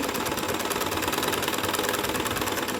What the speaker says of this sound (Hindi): किनारी पर सिलाई लगाएंगे इस तरह से